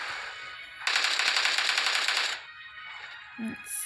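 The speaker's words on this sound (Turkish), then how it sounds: "Kim sıkıyor sen mi sıkıyorsun?" Rapid automatic gunfire in the PUBG Mobile video game, a loud sustained burst of about a second and a half followed by quieter game sounds.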